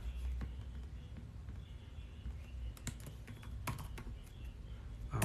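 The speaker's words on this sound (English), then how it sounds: "Ajalu, I'm typing in your information right now." Typing on a computer keyboard at a desk, with soft irregular key clicks and a few sharper taps over a low steady room hum, with no talking.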